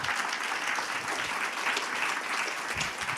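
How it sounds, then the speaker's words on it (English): Audience at an eTwinning workshop applauds in a dense, continuous burst of clapping that fills the room evenly throughout. "Of course, also big round of applause."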